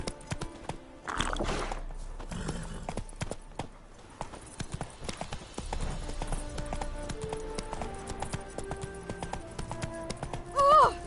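Horse hooves clip-clop steadily in The Witcher 3 video game, a rhythmic trot with a brief whinny near the end, set against a faint game ambience.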